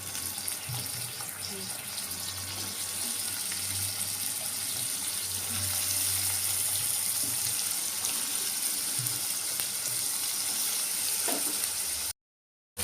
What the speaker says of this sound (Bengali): একটু ভাজা ভাজা করছি